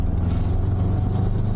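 A Subaru's engine drones steadily while the car is driven, a loud, low, continuous hum with no voices over it.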